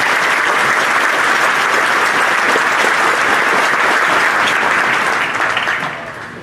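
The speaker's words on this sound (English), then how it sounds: "Let's give them a round of applause." Graduation ceremony applause at Coastal Bend College: a loud, dense crowd clapping continuously for several seconds before tapering off near the end.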